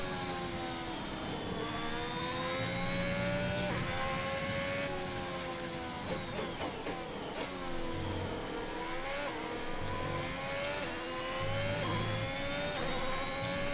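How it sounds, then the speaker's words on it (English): Formula 1 racing car engines from F1 2021 at Silverstone, a continuous high-pitched whine rising and falling as the car accelerates and shifts gears, with other cars' engines mixed in close by. "cars behind me are catching up"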